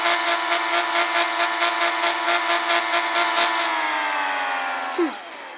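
A car engine in the Car Parking Multiplayer video game, a loud steady buzzing rev with a rapid pulsing rhythm that holds, then gradually drops in pitch and cuts off near the end.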